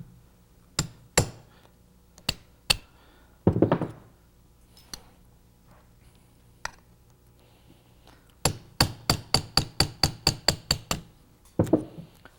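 Rivets on a Rolls-Royce brake shoe driven out in a vise with a taper punch and hammer: scattered sharp metallic taps, then a quick run of about ten evenly spaced strikes, close and clear in a quiet room.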